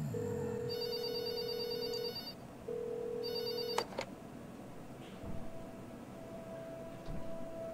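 An old-style telephone rings twice in a video game, each ring a steady buzzing trill with a short gap between, then it cuts off and only faint background hum remains.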